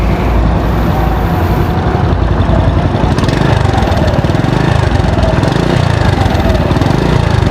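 A Honda Supercub C70 motorcycle with an engine of about 100 cc runs loud and close, a steady rapid putter with no pauses or talk.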